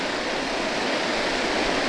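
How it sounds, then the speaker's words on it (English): Brador Falls in Labrador rushes steadily as a broad, even wash of falling water, constant and fairly near, with no voices over it. "I can hear the falls rushing off to the right here"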